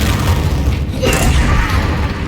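Confringo spell explosion in the game Hogwarts Legacy, a loud, dense rumbling blast that fills the whole short stretch, with a brief rising whoosh partway through.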